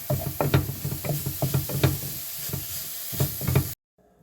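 Taco filling stirred in a pan as it sizzles, with repeated soft scraping and knocking strokes of a utensil over a steady frying hiss, close up, ending abruptly in silence.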